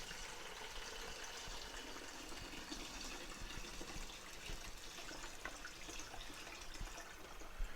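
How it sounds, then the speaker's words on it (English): Cold water is poured into the water tank of a single-serve coffee maker, a steady close rushing fill with a gushing, splashing texture running unbroken for several seconds with no talk. "I've got cold water in here. All we're going to do is fill the tank."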